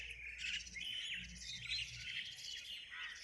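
A flock of birds keeps up a dense, continuous chorus of high chirps and squawks, fairly close and moderately loud, with a faint low murmur underneath.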